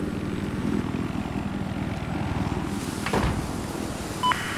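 A military helicopter in Battlefield 4 gives a steady, loud thudding rotor drone that continues throughout, with a brief clank near the end and no speech.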